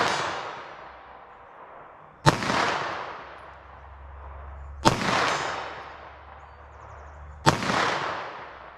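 .380 ACP pistol firing Underwood Xtreme Defender ammunition, three sharp loud gunshots spaced a few seconds apart, each followed by a long ringing outdoor echo decaying into quiet.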